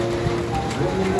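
Steady rain patters on a surface nearby, a dense, even hiss of drops with no break.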